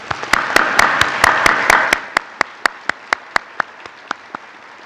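Audience applause at a 2018 IB diploma convocation, a dense roomful of clapping that thins out into a few scattered, evenly spaced claps near the end.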